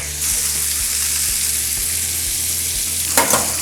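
Scallops sear in a hot pan with shallots and garlic, giving a steady close sizzle and frying hiss, with a few soft stirring knocks and a brief louder splash near the end.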